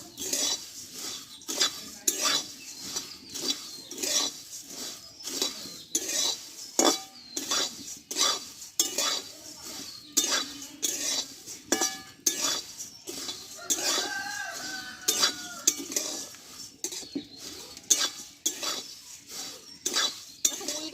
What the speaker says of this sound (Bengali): দিয়ে একটু শুকনো ছোলা এভাবে আমি একটু নাড়িয়ে নেবো